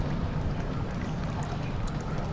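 Steady broadband watery wash in a dark game level of Amnesia: The Dark Descent, a continuous flowing or lapping ambience with no breaks, fairly loud and even throughout.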